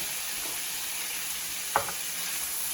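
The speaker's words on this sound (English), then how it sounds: "A nice hot pan. We're just gonna go into this. Got some oil in there. We're gonna get a nice sear on this." Beef tongue sears in oil in a hot pan with a steady, fairly quiet sizzle, broken once by a brief scrape or clack near the end.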